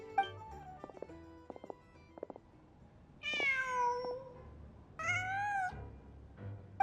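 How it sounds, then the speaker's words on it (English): A cat in the Genshin Impact video game meows several times, short rising-falling cries with clear pauses between them, following a few soft clicks and faint low background ambience. "Just a cat."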